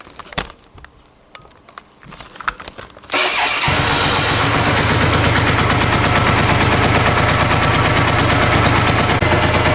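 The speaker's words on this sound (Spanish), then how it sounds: "voy a arrancar la moto para que lo escuchéis" A Hyosung 650 Aquila motorcycle with its rear cylinder dead for lack of a spark plug is started after a few seconds of clicks and clatter. It catches abruptly and then runs loud and close, a dense steady idle firing on the front cylinder only.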